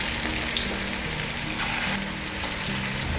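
Fish frying in oil in a pan, a steady dense sizzle and crackle running close and loud throughout with no voice over it.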